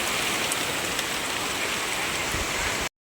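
Steady rain pours down on a farm plot, a dense, even hiss close by and without pause, cutting off abruptly near the end.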